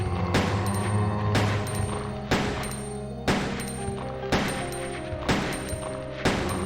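Gunfire from a PS1 zombie shooter game, about seven sharp booming shots at a steady pace roughly once a second, each with a ringing tail, loud and without talk.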